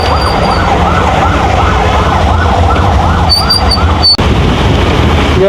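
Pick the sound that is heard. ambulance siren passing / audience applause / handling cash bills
ambulance siren passing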